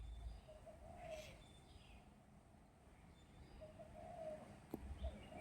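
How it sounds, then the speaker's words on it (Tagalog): Pigeons or doves coo repeatedly outdoors in Hong Kong in the morning, the soft low calls recurring at a distance over steady urban background hum, with a brief sharp click near the end. "Ang ingay-ingay ng mga ibon."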